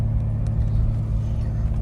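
A car engine idling or running steadily at low pitch, a continuous close rumble with no clear change in speed and no voices.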